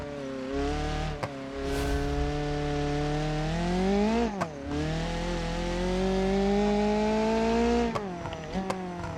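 A small turbocharged car engine races in BeamNG.drive, a continuous loud rising and falling engine drone with gear-change dips and brief clicks, steady and close throughout.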